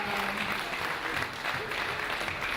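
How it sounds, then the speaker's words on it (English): Audience applauding after a dashboard presentation of a cooperatives registry management information system, dense steady clapping from a crowd filling the whole stretch at an even level. "So I will request that you clap for us"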